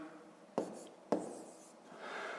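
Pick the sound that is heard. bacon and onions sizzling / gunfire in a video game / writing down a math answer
writing down a math answer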